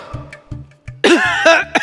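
A man coughs on purpose, a few short quiet throat sounds first, then several loud, harsh, close coughs in quick succession.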